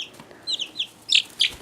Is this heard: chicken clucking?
yes